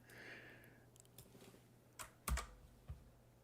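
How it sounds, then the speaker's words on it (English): Someone taps on a computer keyboard with sparse, quiet clicks and a few sharper keystrokes, faint in the background of a quiet room. "I hear a lot of typing going on"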